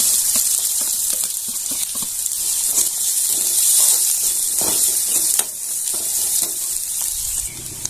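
Onion and two red chillies sizzle in three teaspoons of hot oil in a home kitchen pan, with a steady close hiss and occasional stirring scrapes throughout. No one speaks.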